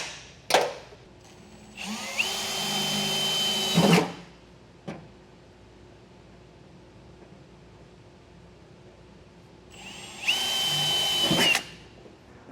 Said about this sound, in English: Now I'll go ahead and get these drilled out.